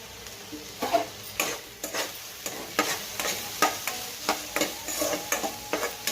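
Carrot pieces fry lightly in oil in a pan for a healthy idli recipe, with a steady sizzle and frequent scraping stirs that click and clatter in an uneven rhythm, close by.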